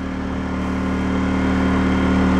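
Portable generator running with its smart throttle switched off, a steady close hum with a low droning engine tone that holds constant throughout, no voices.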